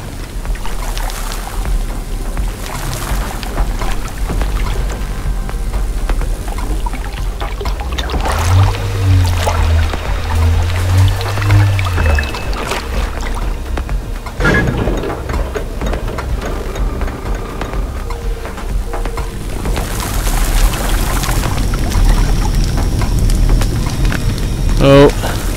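Flowing water in the video game Puddle, a continuous rushing and trickling wash with a low rumble beneath, under someone talking, swelling briefly louder midway.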